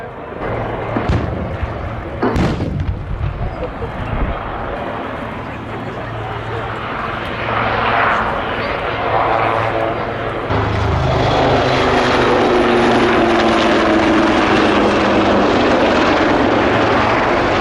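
Wildcat helicopters firing on the airfield during an air display at Yeovilton, heard as loud sustained rotor and engine roar with sharp bursts early on, amid crowd noise and a public-address voice.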